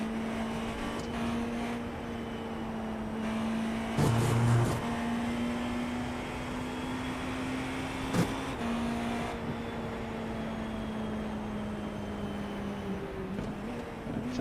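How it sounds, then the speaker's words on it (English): A race car at Le Mans hums along at a steady, even engine tone, heard at a distance beneath a constant background wash, with a couple of brief louder blips and no talking. "Sounds like he might be coasting on fuel a little bit."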